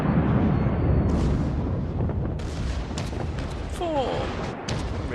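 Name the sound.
naval gunfire hitting a ship in World of Warships video game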